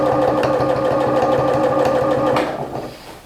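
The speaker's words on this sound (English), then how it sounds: "now we're going to stitch right here with the same straight stitch" A sewing machine runs a straight stitch along a skirt seam with a steady, loud, close mechanical whir and rapid needle chatter, then slows and winds down near the end, with no talking.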